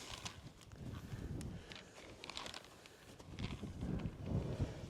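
A horse walks nearby, its hooves giving soft, uneven clip-clops over a wind-buffeted background, with no speech.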